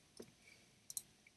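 Computer mouse clicks during image editing work, a soft click followed by a quick close double click, then a faint tick in a quiet room.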